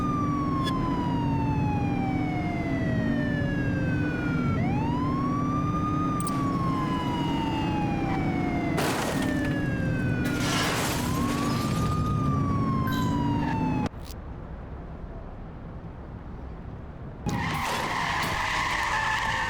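A wailing police car siren sweeps up and down through a pursuit in The Precinct video game, loud and continuous over engine roar and tire skids, with a brief drop in level near the end.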